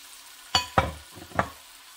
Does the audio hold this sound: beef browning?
yes